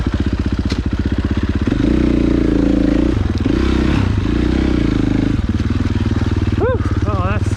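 A dirt bike on single track putters and revs up close, engine pitch rising and falling with clattering and scraping; the rider speaks briefly near the end.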